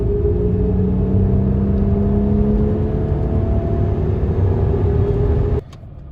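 A car on a long road trip drives with a steady, loud engine and road rumble and a faint whine, which cuts off abruptly just before the end.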